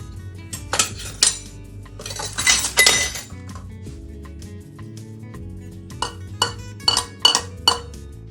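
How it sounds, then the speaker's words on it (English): Lemon zest and sugar being stirred in a bowl while making vegan blueberry lemon scones, with repeated clinks and scrapes of a spoon against the dish, some bursts louder and busier than others, no talking. "Mix that in. Lemon zest and the sugar."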